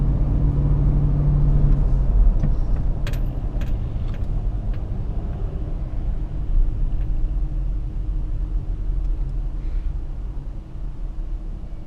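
A 2008 Hummer H2 on BFGoodrich All-Terrain KO2 tires drives while turning, heard from inside as a steady, loud low rumble of engine and tire noise. A few faint clicks sound early on, and nobody talks.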